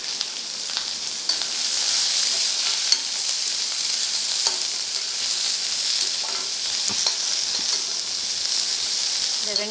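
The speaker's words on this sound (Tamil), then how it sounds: "இந்த வெங்காயத்தை இதில் போடுறோம்." Two chopped onions fry in a pan for radish poriyal, a loud steady hiss and sizzle with scattered spatula scrapes and ticks for about ten seconds, with no clear talk.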